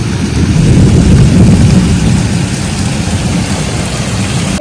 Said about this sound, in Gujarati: વરસાદ વરસી ગયો ભાઈ